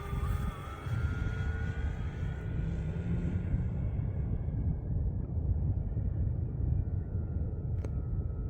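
An FMS 1700mm P-51 RC model airplane on 8S power comes in to land, its motor whine and propeller buzz held steady at moderate distance, then fading and dropping in pitch amid wind noise.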